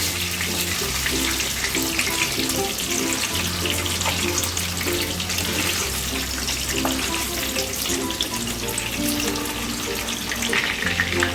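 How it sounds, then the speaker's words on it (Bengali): Chicken pieces frying in oil on a medium flame for a crispy starter, a steady dense sizzle and bubbling hiss, fairly close and continuous. "প্রথমবারে চিকেনগুলো ভালো করে ফ্রাই করে নিলাম"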